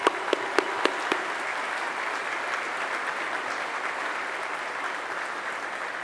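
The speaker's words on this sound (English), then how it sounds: "Let's give her another round of applause." Applause at a plaza dedication ceremony: a few sharp individual claps open it, then a broad, even wash of crowd clapping continues steadily without talk.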